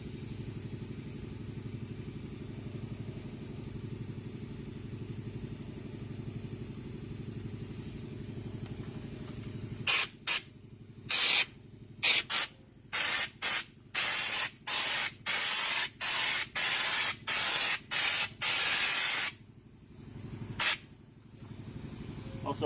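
A spray gun applies Lizard Skin coating to the floor of a squarebody truck, first as a low, steady hiss. It then breaks into a run of loud, sharp bursts that start and stop repeatedly, with no voices.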